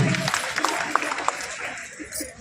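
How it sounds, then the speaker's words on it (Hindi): An audience at a school award ceremony claps in scattered, moderately loud bursts, with voices talking through the applause. "आइए जोरदार ताली बजाएंगे।"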